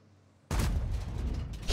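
Tank cannon firing in a tank video game, the 50TP, heard after a quiet half second as a sudden heavy boom followed by a rumbling decay and a second burst at the end.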